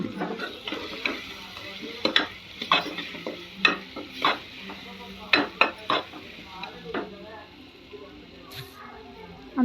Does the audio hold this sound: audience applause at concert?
no